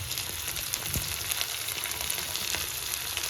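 Chopped onion and chili sizzle in hot oil with mustard seeds and chili powder, a steady, close hiss of frying with faint stirring clinks underneath, no voices.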